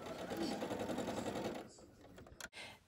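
A sewing machine stitches sashing pieces onto the sides and top of a corner block for a Lemon Star quilt, running steadily and fairly loud for about a second and a half before stopping, followed by a few soft handling clicks.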